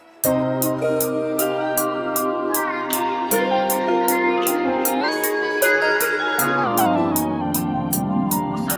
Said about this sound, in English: you could put a sound shifter on it or something and pitch up the melody and make it sound like this